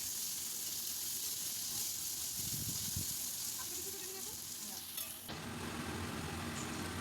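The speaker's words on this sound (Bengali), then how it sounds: "তারপর সেই পেঁয়াজগুলোকে একদম লাল লাল করে ভাজতে হবে।" Onions fry in oil until deep reddish-brown with a soft, steady sizzle and occasional stirring; the hiss shifts in tone partway through.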